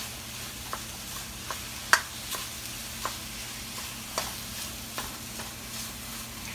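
Ground meat browning in a frying pan for an egg roll in a bowl dish, a steady soft sizzle with occasional light scrapes and ticks of a utensil stirring, close and alone.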